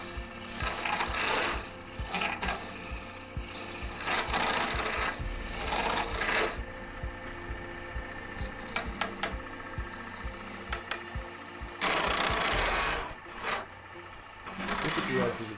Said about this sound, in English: Now to continue to make this curve, I also change another spindle gouge.